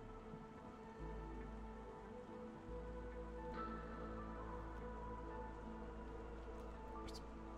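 Steady rain falling in the strategy video game Against the Storm, a continuous soft patter that stays even throughout under a faint background hum, with no voices.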